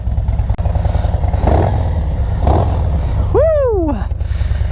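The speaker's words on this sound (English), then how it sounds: "Let's start this bike up, let you hear it a little bit. It's got a nice little lope to it" A 2023 Harley-Davidson Road Glide ST fitted with a 131 kit rumbles close by with a deep, loping idle, while a brief rising-and-falling squeal cuts in near the end.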